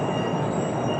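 A New York City subway train rushes through a tunnel under the city, a loud, dense roar of wheels and rails with a faint high squeal running throughout.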